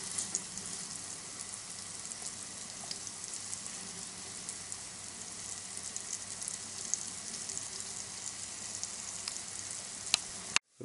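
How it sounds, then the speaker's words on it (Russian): Perch fillet fries in a pan with a continuous, fairly quiet sizzle and hiss that stays even throughout, with a few faint clicks and a brief knock right at the end. "Рыбка с двух сторон обжарилась и потушилась немножечко под крышкой"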